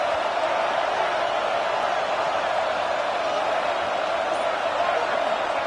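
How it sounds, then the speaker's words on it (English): A stadium crowd roars steadily at a college football game, with South Carolina Gamecocks fans urging on their defense before a red zone stop. The dense cheering holds loud and constant throughout, with no pauses. "here comes the noise. This crowd is trying to inspire this defense to make a big red zone stop."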